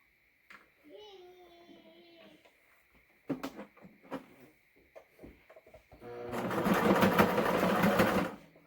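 A sewing machine top-stitching a cloth face mask starts with a few short stitching bursts, then runs steadily and loudly near the end, with someone speaking over the earlier part.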